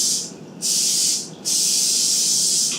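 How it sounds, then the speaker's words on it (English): Three short bursts of cooking spray hiss from an aerosol can onto loaf pans, each a loud, airy spray separated by brief pauses. "make sure you spray the bottom and also the sides"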